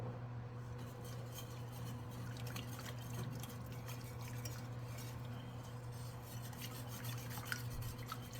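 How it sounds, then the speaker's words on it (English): Beef broth and cream are whisked together in a pan, giving a faint continuous liquid swishing with light metallic taps of the whisk. Quiet and close, with no talking. "1½ cups of beef broth and 1/2 cup of cream. And you're going to whisk that up."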